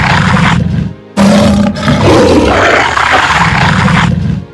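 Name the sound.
man imitating lion roar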